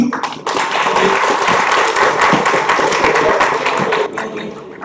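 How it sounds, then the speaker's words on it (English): An audience at a panel discussion breaks into applause, a dense burst of clapping that fills the room for about four seconds before tapering off. "A huge round of applause for sir"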